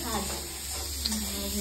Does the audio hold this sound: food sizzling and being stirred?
yes